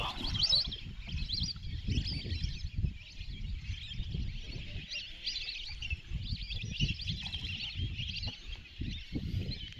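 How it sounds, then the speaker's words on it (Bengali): Lesser whistling ducks call over Doga wetland, a faint, continuous twittering of many birds at a distance, layered over low rumbling background noise from a boat outing, with no speech. "এদিকে যে পাখি শব্দ আসতেছে এগুলো সব বালি হাঁস"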